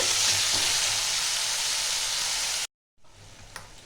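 Finely grated onion frying in hot oil in a pan, a loud steady sizzle that cuts off abruptly, then resumes more faintly after a brief silence.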